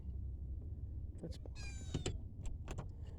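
A cat gives a drawn-out meow partway through, over a low rumbling background with a few clicks and knocks.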